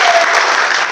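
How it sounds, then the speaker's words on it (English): A crowd at an esports orientation event gives a short, loud burst of dense clapping, close and continuous throughout. "big round of applause before we get started"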